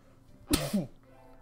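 A single short sneeze, close and moderately loud, with a quick sharp burst and brief tail, then quiet room tone.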